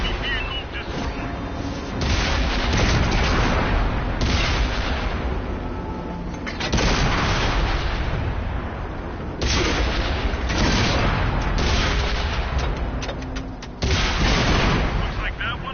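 Tank cannons fire in World of Tanks, heavy booming shots landing every few seconds with rumbling tails between them, loud and close, while voices call out over the battle.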